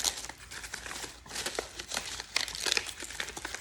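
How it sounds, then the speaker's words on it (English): Dry corn husk layers are peeled back by hand while making a corn husk doll, producing close, soft crinkling and rustling in irregular bursts with brief pauses, and nobody talking. "So we're going to peel it back, try to find our layers, peel it back."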